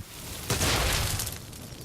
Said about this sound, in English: But we didn't do what we got it for, which is the explosion